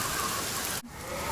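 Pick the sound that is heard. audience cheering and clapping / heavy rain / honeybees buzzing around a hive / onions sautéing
heavy rain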